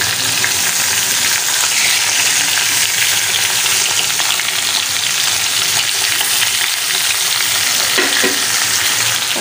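Rani fish frying in a pan of hot oil produce a loud, continuous sizzle with a dense crackle that holds steady throughout, without any voices.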